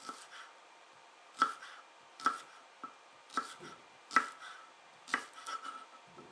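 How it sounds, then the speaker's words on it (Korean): A knife slices green onions on the bias, roughly six separate crisp cuts tapping the board at uneven intervals, close and quiet with no talking. "파는 어슷썰기로 그냥 편하게 하시면 됩니다."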